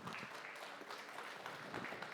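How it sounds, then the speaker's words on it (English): Applause from a conference audience rings out for the whole short stretch, a steady wash of many hands clapping that sounds fairly distant and faint, with no talk over it. "Round of applause."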